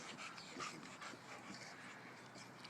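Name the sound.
husky and bulldog fighting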